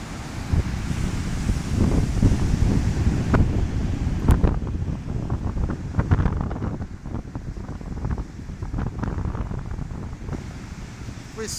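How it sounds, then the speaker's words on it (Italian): Rough sea surf at Baia Domizia beach, broad continuous wave roar mixed with heavy wind buffeting the microphone, steady and close throughout. "Guardate che bel mare agitato."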